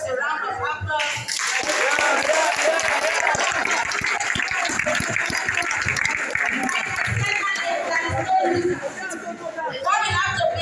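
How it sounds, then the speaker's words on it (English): A school audience at a secondary school event breaks into sustained applause, dense clapping and cheering that swells for several seconds then fades, with chatter mixed in. "Let's give ourselves a round of applause."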